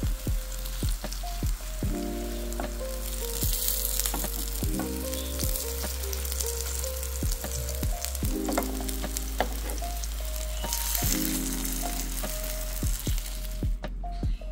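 Smiley-face potato shapes fry in hot oil with a steady, close sizzle and crackle throughout, broken by frequent clicks and scrapes of a utensil turning them in the pan.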